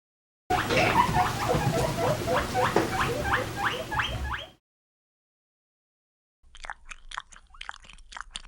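A guinea pig squeaks and chatters in rapid repeated bursts for about four seconds, then falls silent before a fainter second run of squeaks.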